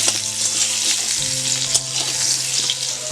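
Potato pieces fry in a pan with only salt on a clay stove, giving a steady close sizzle with soft stirring scrapes and occasional spatters throughout, no talk.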